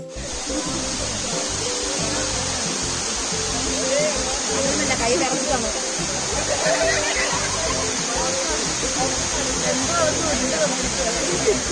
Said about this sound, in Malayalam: നല്ല ഭംഗിയുള്ളൊരു വെള്ളച്ചാട്ടം